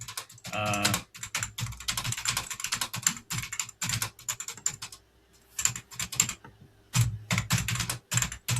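Typing on a computer keyboard, close and clear, with quick bursts of key clacks broken by short pauses.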